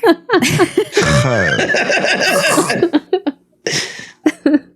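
Exaggerated, raspy throat clearing and hacking from one nearby voice, drawn out and gurgly, then a few shorter guttural bursts with pauses between.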